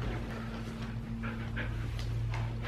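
A puppy pants rapidly at close range with a few soft whimpers, over a low steady indoor hum.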